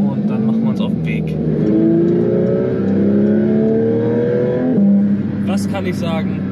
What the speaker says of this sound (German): Also für OPF muss man echt sagen, ist der Sound von dem Auto völlig okay.